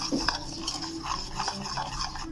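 Butter and icing sugar are stirred together in a bowl, giving a close, continuous scraping and rubbing with small clicks of the utensil against the sides.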